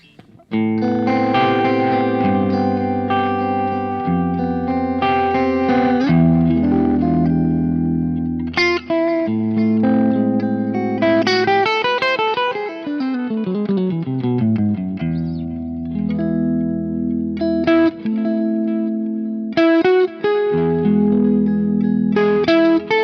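Electric guitar playing sustained chords and melodic runs through a Laney amp, washed in chorus and reverb for a spacious, ambient tone.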